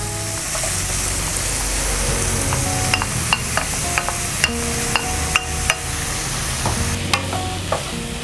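Meat and small shrimp stir-fried in a hot pan give a steady close sizzle, with sharp clicks of a utensil knocking and scraping the pan at irregular intervals and no talking.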